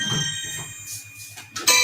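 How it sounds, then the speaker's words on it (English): Creepy ringtone from the horror film One Missed Call, a tinny tonal melody with sustained high notes playing alone, ending in a louder bright burst. "it's a really creepy ringtone"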